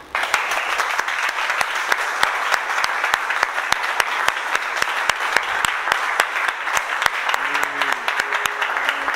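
A worship congregation applauding God, with sustained dense clapping that carries steadily throughout at moderate loudness, and faint sung or spoken tones rising briefly near the end.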